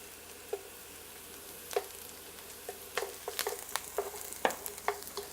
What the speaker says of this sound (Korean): 식용유하고 파를 넣고, 파가 어느 정도 이렇게 노릇노릇하게 올라오면 마늘을 넣어주고